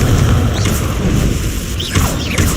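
A loud, booming Confringo spell explosion in Hogwarts Legacy lands with a dull rumble, followed by whooshing spell sweeps and magical swishes in quick succession.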